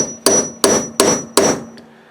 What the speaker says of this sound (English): I'm just going to hit it with a punch.